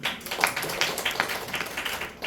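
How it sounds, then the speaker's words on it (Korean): A class at a Bible and covenant lecture claps briefly, a loose run of sharp, irregular claps at close range with a slight murmur behind them. "박수."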